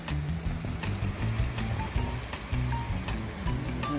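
Small hailstones fall during a hailstorm in Riyadh, Saudi Arabia, producing a dense, continuous pattering across surfaces with scattered sharper ticks of individual impacts, heard nearby without speech.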